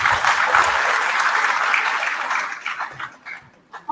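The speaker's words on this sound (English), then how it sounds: "A round of applause." Applause from a graduation ceremony crowd fills the hall, steady and dense for about two and a half seconds before thinning into scattered claps and fading out.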